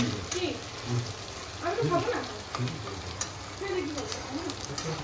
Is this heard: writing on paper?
no